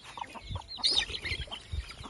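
Several desi country hens peck at a feed of fish meal, spinach, tomato, onion and rice, making close, irregular low clucks, scratching and pecking taps, and one brief sharper squawk.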